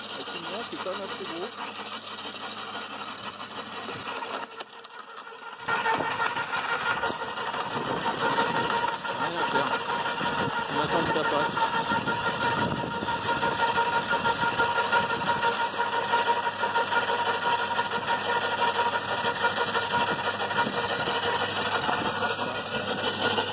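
A wood chipper grinds fresh, still-green eucalyptus branches into fine mulch, a loud continuous roar that kicks in after a few seconds of quieter engine idle and then runs steadily close by without a break.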